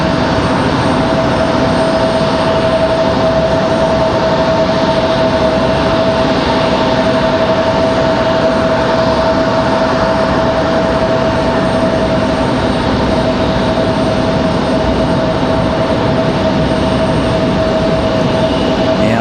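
Republic Airways Embraer E175 jet at Raleigh-Durham International Airport, heard as a steady, loud engine roar with a constant whine that holds through the whole stretch, no voices.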